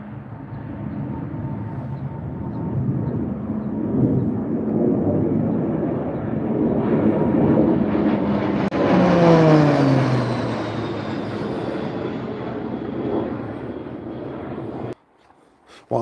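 A Texan aircraft flies past in the Mach Loop. Its loud engine roar builds steadily, peaks with a sweeping Doppler drop as it passes close by, then fades away before cutting off abruptly near the end.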